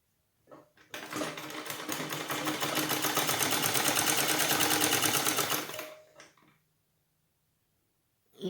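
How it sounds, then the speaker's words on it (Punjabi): A sewing machine stitches a salwar cuff with buckram, running in one steady rapid burst of about five seconds before stopping, close and fairly loud in an otherwise quiet room. "ਲੋ ਜੀ ਸਲਾਈ ਆਪਾਂ ਕਰ ਲਈ ਆ ਪੂਰੀ"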